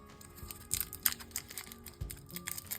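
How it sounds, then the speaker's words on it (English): Mamba chewy candies being unwrapped by hand, giving crisp, crinkly wrapper rustles and small clicks in irregular close bursts at low level, with no talking. "I'm just going to go ahead and just unwrap them, like so."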